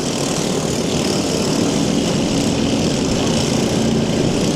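Lawn mower engines race during a lawnmower derby, a loud, continuous buzzing roar that stays steady throughout without breaks or talk.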